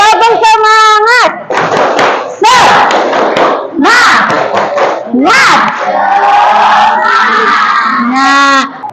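A classroom of students chanting together in loud, rhythmic bursts with cheering voices, the group shouting in unison close by, though distinct clapping cannot be made out under the voices.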